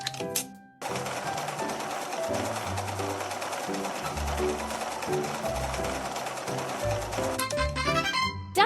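Sewing-machine sound effect from a fashion doll video game as a purse is stitched, a steady mechanical whir running for several seconds over looping game music, stopping briefly near the start and ending with a short chime.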